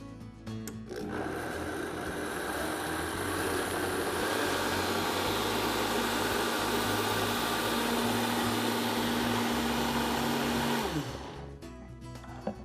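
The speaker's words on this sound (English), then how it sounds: "So we're gonna give this a good blend until the batter is smooth." A kitchen blender runs steadily for about ten seconds, blending banana bread batter under a towel, a loud, dense whir with a sustained motor tone that cuts off sharply at the end.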